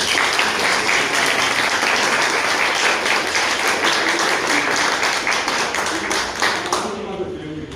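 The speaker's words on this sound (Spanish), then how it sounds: "yo quiero pedir, por la circunstancia, un aplauso muy especial para ustedes" Dense, sustained applause from an audience at a Guarani language and culture institute's classroom inauguration, steady and loud throughout before thinning out at the very end.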